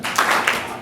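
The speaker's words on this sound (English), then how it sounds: "Give me one clap." An audience delivers a single clap together on cue, a brief burst of many hands striking at once, followed by a short spread of scattered claps in a hall.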